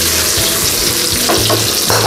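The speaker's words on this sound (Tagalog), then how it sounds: "So habang nagme-melt siya is lagay na po natin ang ating sibuyas" Chopped onions sizzle and fry steadily in melted butter in a pan as the base for salted egg chicken, with a continuous crackling hiss and occasional stirring scrapes throughout.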